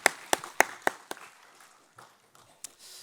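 A church congregation at a Wednesday service claps: a few sharp, evenly spaced claps ring out close by, then fade into scattered, softer claps and murmurs.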